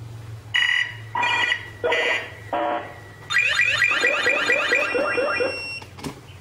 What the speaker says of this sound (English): You can hear the radar detector audio coming through the speakers